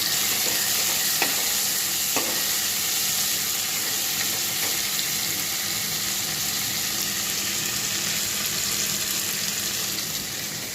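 Fried rice with onion, tomato and coriander hisses loudly and evenly in a pan while being stirred, with a few scraping taps from the spoon and no voices.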